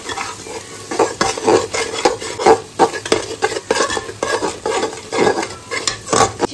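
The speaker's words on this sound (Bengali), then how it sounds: "হলুদের গুঁড়ো, জিরের গুঁড়ো, মশলাগুলোকে ভালো করে নেড়ে দেবো।" A spatula stirs turmeric and cumin powder through oil in a pan for ghugni, fast rhythmic scraping strokes over a bright sizzle, loud and close, with no voices.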